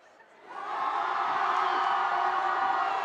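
Redland high school student section cheering at a basketball game against the Colts, a broad crowd roar that swells up within half a second and holds loud and steady.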